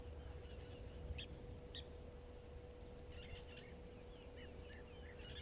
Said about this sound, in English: You can also just hear some of those European bee-eaters across here